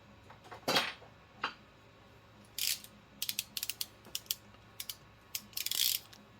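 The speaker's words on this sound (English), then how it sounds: "You should always tighten and loosen this bolt for your tool head with the ram at the bottom" A ratcheting wrench tightens the 21mm tool head bolt on a Frankford Arsenal X10 reloading press, giving close, quick bursts of clicking in irregular runs separated by short pauses.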